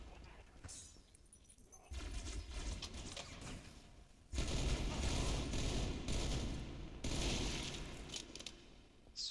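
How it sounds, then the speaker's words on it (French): Gory bursting of bodies in the video game Halo: Reach, heard as loud crunchy gunfire-like bursts and splatter in two or three heavy surges over a constant game din, with no talking. "morceaux de corps qui éclatent"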